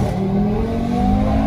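An Audi TT RS stage 2 pulls away hard from a start, its engine a loud, steady, rising drone heard close from inside the car, with no talk over it.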